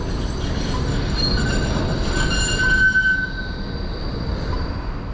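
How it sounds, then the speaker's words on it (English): A Melbourne route 96 tram rumbles steadily past nearby in St Kilda, its wheels squealing in a thin high whine as it turns left on a curve, with no voices. "here comes a 96 tram, which is going to turn left into the former railway yard"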